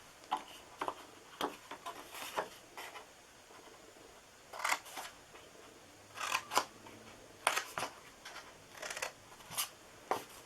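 Scissors snip through card stock pieces for a Christmas card and treat box, a series of short crisp cuts in irregular bursts with quiet pauses between them, close and fairly soft, with no talking.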